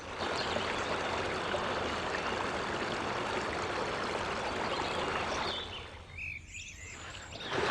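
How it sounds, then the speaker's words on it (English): Water sloshing and churning steadily as someone wades through a flooded field about 18 inches to 2 feet deep, a dense continuous rush close by that briefly thins near the end, with faint bird calls outdoors. "As you can probably hear, I'm wading through about 18 inches"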